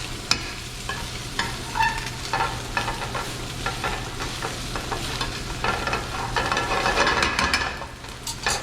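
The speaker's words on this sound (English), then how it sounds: "Give it a nice stir." Empanada filling seasoned with paprika, crushed red pepper, salt and black pepper gets stirred in a hot pan, giving a steady close sizzle with scraping strokes throughout and no talking.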